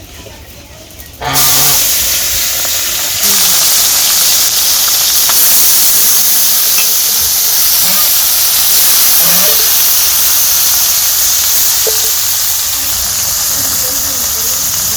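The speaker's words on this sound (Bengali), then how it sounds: "মাছ এনেছি তো দিয়ে দিই তেলটা গরম হয়ে গেছে" Fish slides into hot oil in a village kitchen, and after a brief quiet opening a loud, steady hissing sizzle bursts up and holds, with faint voices in the background.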